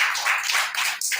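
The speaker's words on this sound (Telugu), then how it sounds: "చప్పట్లు దేవుడు" A church congregation claps during a sermon, a dense burst of many hands beating briskly together, close and lively, with one sharp separate clap near the end.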